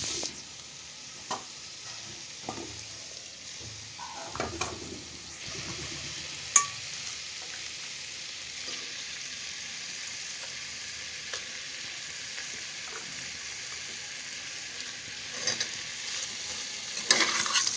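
Mustard greens are stir-fried in a pan with pork and potatoes. A steady, moderate frying hiss runs throughout, broken by a few faint clinks and scrapes, with no voices.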